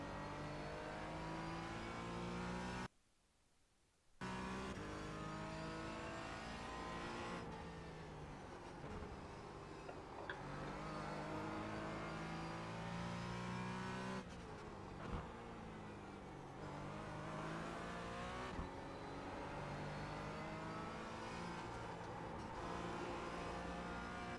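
A Porsche Cayman GT4 laps Virginia International Raceway, its engine droning steadily at high revs with shifting pitch through gear changes, one brief cut to near silence, and a lift off the throttle over the curbing, close and continuous with no talking.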